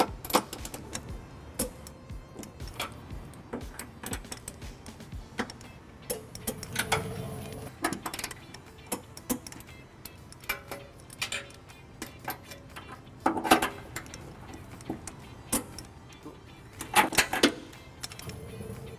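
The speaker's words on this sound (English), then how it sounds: "Now we're going to tighten our bolts to the manufacturer specified torque using an 11/16 socket and a 5-inch extension." A ratchet fitted with an 11/16 socket and a five-inch extension snugs down trailer hitch bolts on a 2019 Hyundai Elantra, giving quick, close clicking runs broken by short pauses and a few heavier knocks.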